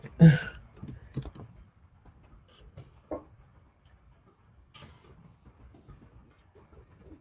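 Keys tapped on a computer keyboard, sparse irregular clicks, a louder burst at the start and then quieter scattered taps, close by with no talk.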